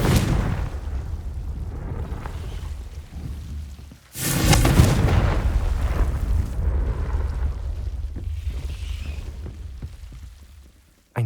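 A Confringo blasting spell detonates in Hogwarts Legacy, a deep, booming explosion with a sharp burst at the midpoint, then a long rumbling roar that slowly fades.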